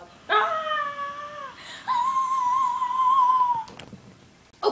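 A dog whimpers and whines in the Super Smash Bros. Wii U video game, with high drawn-out tonal cries that rise and hold across several seconds, loud and close, without talk over them.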